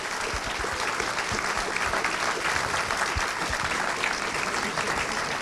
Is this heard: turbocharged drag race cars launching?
no